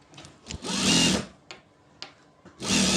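Sewing machine running a top stitch on a blouse, two loud sustained whirring bursts separated by brief clicks and handling of fabric, close and alone without speech.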